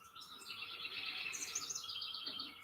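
Morning birds sing outdoors at a distance, a soft, continuous mix of chirps and tweets at low volume.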